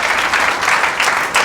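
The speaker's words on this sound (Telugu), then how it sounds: "So give her Vinila a big claps." A group of NCC students claps for a classmate in a women-empowerment class, a steady, dense patter of hands lasting a moment with no talking.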